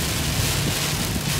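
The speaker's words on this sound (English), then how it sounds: "The rain's coming down stronger than ever right now." Heavy rain pours down steadily during a freeride outing in Southern California, a dense, continuous wash of noise with some wind buffeting the microphone, with no pauses.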